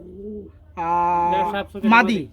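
Rasgolla pigeons, a young pair around six to seven feathers, give soft cooing calls, a low murmur followed by louder rolling coos close by, with faint background noise.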